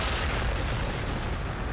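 Missile launchers in Warhammer 40,000: Sanctus Reach let off a dense, loud, continuous barrage of booming blasts and explosions with no pauses.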